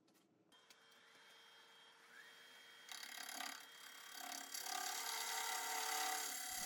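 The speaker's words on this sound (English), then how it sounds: "I'm just establishing the outer tenon now" Wood lathe cutting the outer tenon of an offset bowl, a steady mechanical whine and hiss that swells louder about halfway through as the tool bites harder, continuous with no talking.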